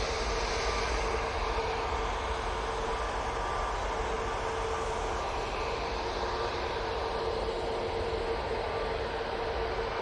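An EasyJet airliner moving at Manchester Airport gives a constant, dense engine rush with a faint steady whine, moderately loud and unbroken throughout, no voices heard.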